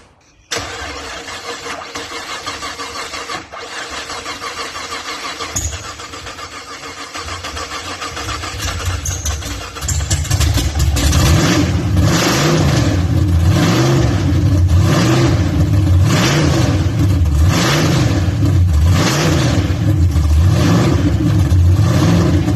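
A race car engine cranks repeatedly and struggles to fire, its starter whirring steadily before a loud, rhythmic, pulsing churn takes over partway through and continues close and unbroken to the end.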